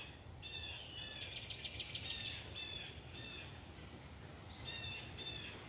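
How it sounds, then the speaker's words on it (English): A blue jay gives repeated harsh, squawking calls in quick bursts, then falls quiet before calling twice more, moderately distant over soft outdoor background noise. "Our blue jay."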